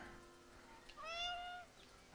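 A single drawn-out cat meow from the video game Copycat, close and clear over a low steady background hum.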